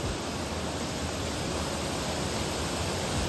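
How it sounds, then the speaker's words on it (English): A roadside waterfall in West Virginia's New River Gorge area, heard as a steady, dense roar of falling water, continuous and unbroken with no voices. "next to this random waterfall that I found"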